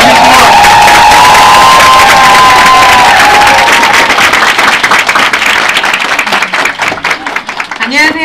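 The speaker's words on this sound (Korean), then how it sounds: "여러분들 김문주 사님을 큰 박수로 applause" A large audience breaks into loud, sustained applause with cheering and whoops, welcoming a speaker named Kim Mun-ju onto a stage, the dense crowd noise steady throughout before thinning slightly near the end.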